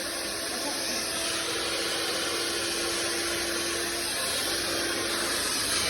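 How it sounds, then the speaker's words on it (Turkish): A handheld hair dryer blows steadily and loudly at close range while hair is blow-dried straight with a round brush. It makes an even rushing whoosh with a faint motor whine and no talking. "bugün düz fön çekimini göstereceğim"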